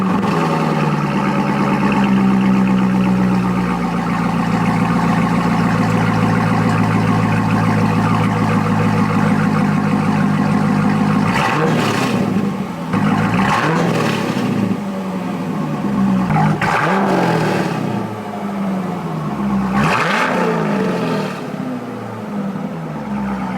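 A 2012 Ford Mustang Boss 302 V8 with an aftermarket exhaust rumbles loud and close at a deep steady idle, then is revved several times in sharp bursts that rise and fall, the low burble returning between blips.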